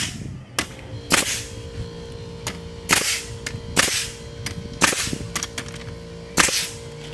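A framing nail gun drives fasteners into deck boards, firing a series of sharp, loud percussive bangs at irregular intervals about a second apart, with faint bits of handling noise between shots.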